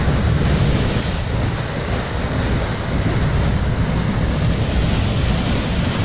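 A waterfall roars as a constant, dense wash of falling water, close and loud, with gusting wind and blown mist buffeting the microphone throughout.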